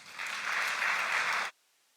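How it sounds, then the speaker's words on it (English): Graduates at a university winter convocation break into a short burst of applause that holds steady for about a second and a half, then stops abruptly into near silence. "Clap for yourselves."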